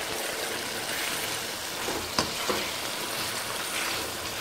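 About a kilogram of boiled lamb being stirred into a sizzling pilau base in a pot, a steady loud frying hiss with a couple of faint knocks as the meat is mixed.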